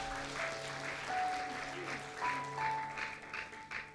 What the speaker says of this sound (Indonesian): Tepuk tangan bagi nama Tuhan lebih dulu.